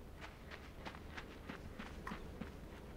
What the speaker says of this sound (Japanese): 足音が逆に目立ちますね